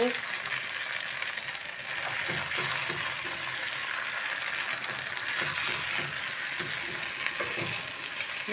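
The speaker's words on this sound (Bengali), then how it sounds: "এবারে সুন্দর করে ভাজবো।" Fish fries in hot oil with a steady crackling sizzle and a few soft stirring clicks, while a voice talks quietly under it.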